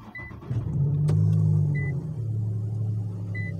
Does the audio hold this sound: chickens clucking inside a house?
no